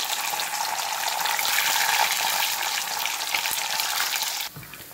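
Loud, bright sizzling of paneer frying in oil, a dense continuous crackle that drops away abruptly near the end.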